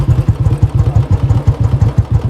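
Motorcycle engine running steadily on a mountain road in Uttarakhand as a ride begins, a close, loud rhythmic thumping pulse with no voices over it.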